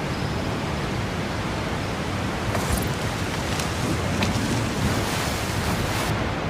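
Loud, steady roar of rushing water from a waterfall beside a river trail, a continuous broadband wash close by with no voices.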